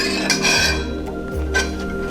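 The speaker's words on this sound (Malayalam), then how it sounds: "നമ്മൾ ഒരു കയ്യിലെടുത്ത് കട്ട കുത്താണ്ട് ഇളക്കി ഒന്ന് ചൂടാക്കി വയ്ക്കാം" Gelatin and china grass mixture stirred in a pan by hand, with steady scraping and occasional light metallic clinks of the spoon against the pan, close and continuous with no voices.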